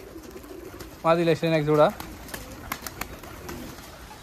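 Pigeons coo at a large Giribaz pigeon farm, a short close burst of cooing standing out over faint background noise, while someone speaks briefly.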